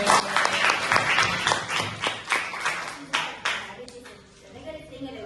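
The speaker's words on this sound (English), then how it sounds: "Give applause to Gina." A room full of listeners claps for Gina after her answer, with sharp individual claps at first that thin out and fade after a few seconds, while voices murmur around the applause.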